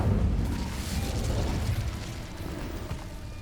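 The Incendio fire spell in Hogwarts Legacy gives a loud, continuous roaring burst of flame, deep and rumbling at first, then slowly easing off.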